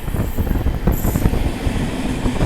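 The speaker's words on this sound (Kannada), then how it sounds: "ಕಾಜ್ಪೇಟ್ ಜಂಕ್ಷನಿಂದ ಪುಣೆ ಜಂಕ್ಷನ್ಗೆ ಹೋಗೋ ವೀಕ್ಲಿ ಸೂಪರ್ ಫಾಸ್ಟ್ ಎಕ್ಸ್ಪ್ರೆಸ್ 22152 ಈ ಟ್ರೈನ್ ಈಗ ಜಿಂಗ್ ಮಾಡಿದ್ದು ಹೆವಿ ಸ್ಪೀಡಲ್ಲಿ ಹೊಂಟೋಯ್ತು" Weekly superfast express 22152, running from Kazipet Junction to Pune Junction, rushes past at high speed with a steady, loud, broadband rumble and rattle that holds evenly for the whole stretch with no voices.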